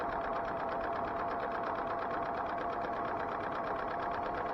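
A serger sewing machine stitching along a straight fabric edge runs as a steady, continuous mechanical whir with a fast rattling hum, close and even throughout without pauses or talk.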